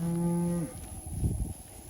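A cow on a regenerative ranch lets out a long, low moo up close, followed by soft rustling and shuffling from cattle in the pasture.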